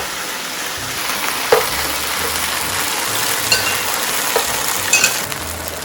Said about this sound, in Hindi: इसमें डाल दें जो सूजी है आपकी। और इसे आपने जल्दी जल्दी हिलाना है।